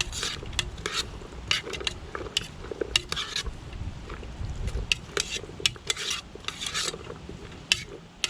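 Beef and onions browning without oil in a Zebra 16cm stainless billy can over a flame outdoors, with a spoon scraping and clinking against the metal in irregular bursts over a soft, steady sizzle.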